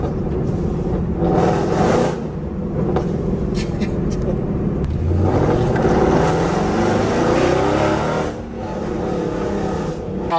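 A powerful 530-horsepower wagon engine roars at full throttle through the gears as the wheels scrabble for grip, a loud sustained rising drone close by with voices talking over it.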